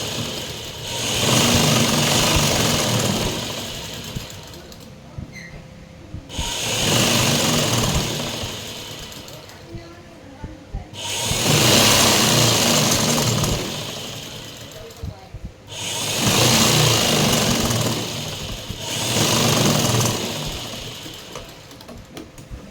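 A sewing machine stitches a petticoat in four long, loud runs of rapid mechanical whirring, each lasting several seconds with short pauses between, close by and with clicks and a voice heard in the quieter gaps.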